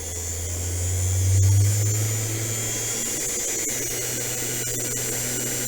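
A Sainsmart CNC 4040 Pro router spindle runs at 3,500 RPM, a steady low electric hum with a brief swell near the start, then a constant drone with faint background noise.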